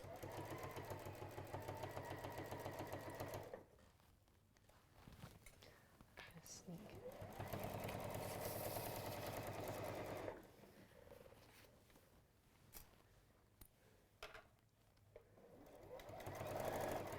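A sewing machine top-stitches denim with a steady rapid mechanical chatter, starting and stopping in bursts and running close, while a person talks quietly around and over it.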